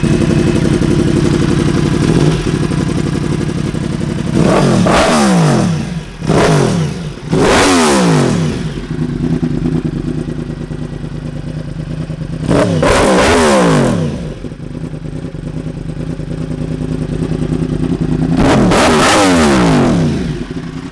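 A Yamaha YZF R1 or MV Agusta F3 motorcycle fitted with an Akrapovic aftermarket exhaust idles with a steady rumble, then blips the throttle in four sharp, loud revving bursts that rise and fall, heard close with no talking.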